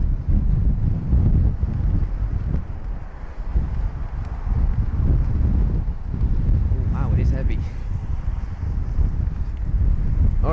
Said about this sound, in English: The wind is definitely there.